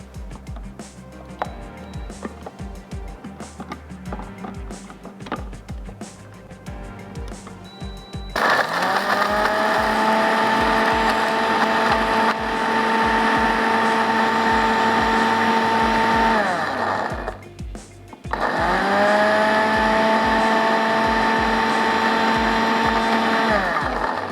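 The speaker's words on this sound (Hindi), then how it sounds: "चलिए ये हम पीस लेते हैं।" An electric grinder blends roasted ingredients for Hyderabadi chawal ki kadhi. It runs in two loud sustained whirring bursts with a brief pause between them, after some quieter kitchen clatter.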